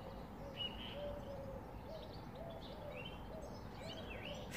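Several birds chirp and call over steady outdoor background noise in England in spring, faint and somewhat distant, with repeated short tweets and cooing notes.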